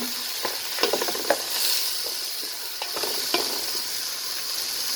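Chicken kabsa sizzles loudly in a pan as it is stirred, with a steady close frying hiss punctuated by several sharp clicks and scrapes of the utensil.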